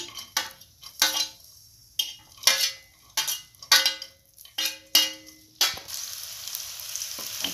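Garlic, onion and green chillies are stirred in a hot pan, a series of sharp scraping strokes about once a second over a low background sizzle that turns into steady frying toward the end, close and clear.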